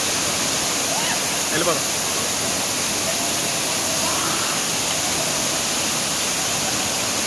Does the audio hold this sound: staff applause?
no